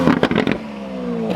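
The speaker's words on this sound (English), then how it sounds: "we got Jeremy in the Aventador S." Lamborghini Aventador S engine revving, with a few sharp, loud bursts in the first half second that give way to a sustained steady engine tone.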